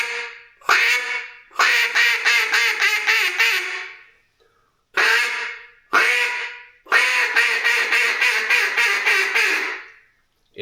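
A handheld duck call blown in a quacking cadence, aimed at flying birds: a few sharp separate quacks, then a long run of rapid descending quacks, a pause, two more quacks and another fast rolling series, loud and close.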